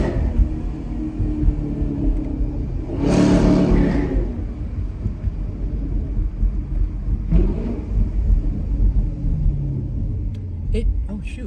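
A rebuilt Chevrolet Camaro SS 1LE engine revs on a stand in a shop, a loud continuous rumbling roar with a couple of stronger surges.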